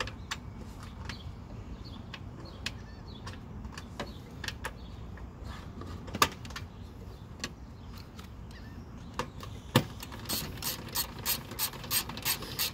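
A ratchet wrench clicks in quick bursts while snugging 10 mm bolts on a 2013 Hyundai Sonata radiator, close and fairly quiet, the pawl ticks speeding into rapid strokes toward the end with occasional metallic knocks.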